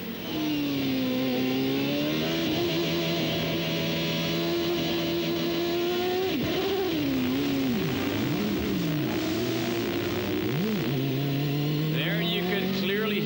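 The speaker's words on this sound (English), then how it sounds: "Let's just listen to Adrian's engine here" Loud 1994 IndyCar race car engine at Loudon revving and shifting through gears, pitch rising and dipping repeatedly, close and continuous with a commentator voice partly audible beneath.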